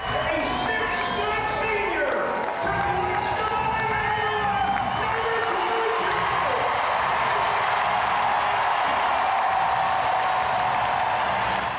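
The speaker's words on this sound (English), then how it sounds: "Listen to these Hawkeye fans as Caitlin gets one of her final introductions on her home floor." A large indoor crowd of Iowa Hawkeyes fans at a women's college basketball game in Carver-Hawkeye Arena roars and cheers continuously, loud and sustained, with whoops and shouts rising above the din.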